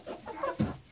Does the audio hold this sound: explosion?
no